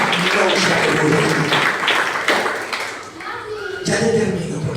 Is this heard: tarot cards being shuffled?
no